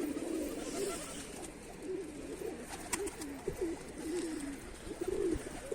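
Domestic pigeons in a loft coo in soft repeated rolling phrases, fairly quiet and close, with a few light rustles and taps between calls.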